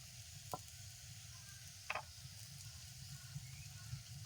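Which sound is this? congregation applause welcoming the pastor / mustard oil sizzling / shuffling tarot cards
mustard oil sizzling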